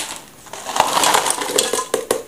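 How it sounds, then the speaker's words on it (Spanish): Frozen raspberries tumbling into a jam pot, a steady clattering rush of small hard pieces striking metal with sharp clinks and knocks scattered throughout, fairly loud and close. "echamos las frambuesas ya en la perola"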